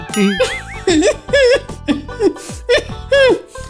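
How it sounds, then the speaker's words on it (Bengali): A woman in a comic Bengali folk-tale scene coughs repeatedly in short, voiced bursts, close and clear. She is acting a character with tuberculosis, and the cough has an exaggerated, sing-song quality. "কি কি কাশছো কেন?"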